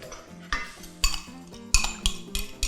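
Carbonara sauce with egg yolk cream is stirred quickly in a pan, heard as close, irregular metallic clinks and scrapes of a utensil against the pan, several sharp knocks over soft background, with no talk.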